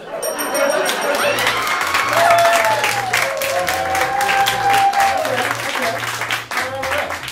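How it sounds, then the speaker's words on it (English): Loud applause and cheering from a comedy improv show audience, sustained clapping with whoops and shouts, while voices talk over it and music plays underneath. "we're giving them points throughout the night based on your applause"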